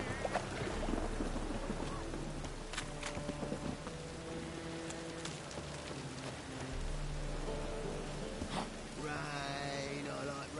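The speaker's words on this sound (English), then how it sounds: "Rain, I like rain." Steady rain falls throughout in the video game The Witcher 3, with sustained tonal sounds beneath it and a few sharper spatters.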